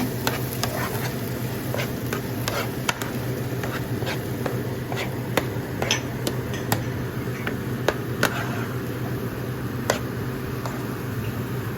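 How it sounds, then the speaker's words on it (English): Cooked tomatoes being smashed with the back of a spoon in a pan for pav bhaji, steady frying hiss under many quick taps and clicks of the spoon against the pan in an irregular rhythm. "smash the tomatoes with the back of your spoon"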